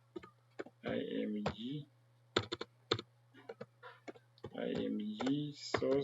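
Scattered keystrokes on a computer keyboard, heard as faint clicks and short bursts of tapping between stretches of someone speaking over a low steady hum.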